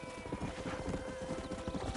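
Horse hooves clip-clop in a steady galloping rhythm with a neigh in the middle, from the Western video game Red Dead Redemption, close and loud over a faint tonal music bed.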